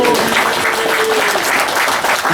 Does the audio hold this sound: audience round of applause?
yes